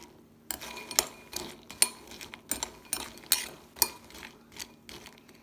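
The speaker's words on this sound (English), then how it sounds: "And then just mix them around so that the oil can cover all the chickpeas." A spoon clinks and scrapes against a bowl in uneven bursts as chickpeas are stirred with olive oil. The sound is close and crisp, with short pauses between the strokes.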